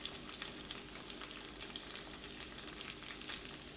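Halved mild green chilies and garlic frying in a pan: a steady, soft sizzle with scattered crackles and pops throughout, quiet and close, with no voices.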